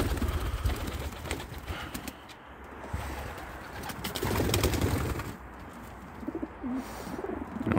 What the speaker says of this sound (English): All the birds are flapping around.